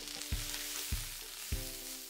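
Garlic sizzles softly in a hot pan while it cooks for a slow cooker pot roast, a steady low frying hiss with three brief knocks or taps spaced evenly through it.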